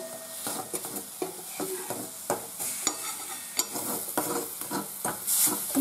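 Mawa mixed with cocoa powder is stirred in a pan, a spoon scraping in soft repeated strokes over a low hiss of cooking.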